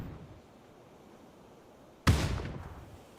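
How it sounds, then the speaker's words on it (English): A grenade explosion in New State Mobile hits as a single sudden loud boom after quiet ambient noise, followed by a rumbling decay lasting about a second. "Enemy thrown in a nade."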